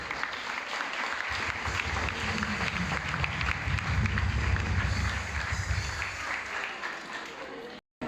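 A church congregation at a Christmas program applauds as a candle is lit: dense, steady clapping fills the room for about eight seconds, close and full, then cuts off abruptly at the end.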